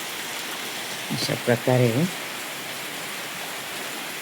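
Steady outdoor rainfall hissing evenly throughout, with a brief spoken phrase in the middle.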